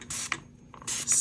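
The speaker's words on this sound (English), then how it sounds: "spray it real quick, make sure everything's out" Alcohol is sprayed over resin in a mold from a spray bottle, two hissing bursts with a brief pump click and a quiet gap between them, close by.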